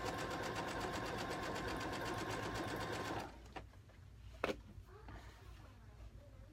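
A sewing machine stitches curtain fabric in a fast, steady, rattling run for about three seconds, then stops, leaving quiet room noise with a few handling knocks.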